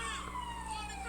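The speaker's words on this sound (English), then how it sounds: "can we talk about the fucking sirens? Is that the fire department already? No, it's the cops." A police car siren wails outdoors, a sustained falling tone heard at moderate distance under a steady background rumble.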